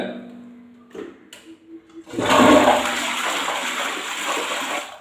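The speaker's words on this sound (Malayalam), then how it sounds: "ഇതുപോലെ ഒന്ന് ഫ്ലഷ് ചെയ്ത് കഴിഞ്ഞാൽ" A toilet flushes loudly up close after a few small clicks, water rushing and swirling steadily until the end.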